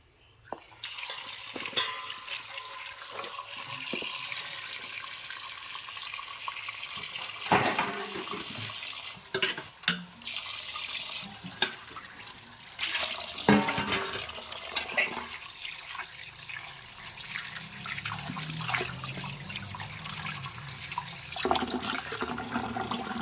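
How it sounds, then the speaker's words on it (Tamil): Tap water runs steadily while fish is washed by hand in a kitchen, a continuous splashing rush with sloshing and clatter of handling, close and fairly loud, without talk. "இப்போ இந்த மீனை வந்து வாஷ் பண்ணிக்கலாம்."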